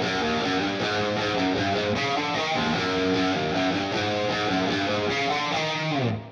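Distorted electric guitar playing a riff, a dense, driving run of palm-muted chugs and chords at steady volume that cuts off with a short ringing tail.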